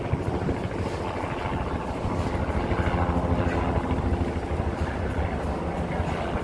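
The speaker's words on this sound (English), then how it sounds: "The helicopter in the sky." Helicopter flying over New York City at sunset on Columbus Day, a steady low rotor drone and broadband rumble that holds at a moderate level throughout, with wind-like hiss over it.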